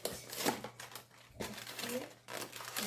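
Scissors snip and crinkle a packet of brownie mix in a home kitchen, a few short crackly cuts and rustles close to the microphone, with someone talking over and between them.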